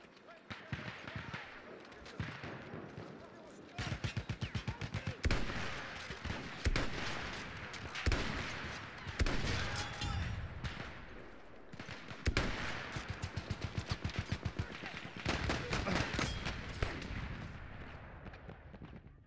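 Rapid gunfire in Battlefield 1 multiplayer, with bursts of rifle and machine-gun shots crackling in fast repeated volleys across the whole stretch, fairly loud and dense, with a few short pauses between barrages.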